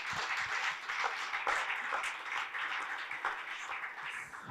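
Church retreat congregation in Goa applauding, a steady wash of clapping from many hands filling the room, continuous and fairly close without a break.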